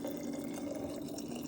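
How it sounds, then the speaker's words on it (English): Warm water is poured into a jar, a steady liquid stream with a rising filling tone, close and continuous and without talking. "basically just pour this warm water"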